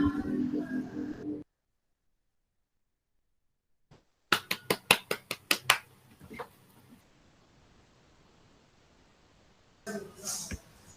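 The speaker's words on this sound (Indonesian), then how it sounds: "Aplaus untuk Ibu Erni dan Pak Handri." Applause in an online meeting comes as a short burst of sharp, clap-like transients lasting under two seconds, followed by faint noise. Speech is heard at the start, then silence, and more voices come near the end.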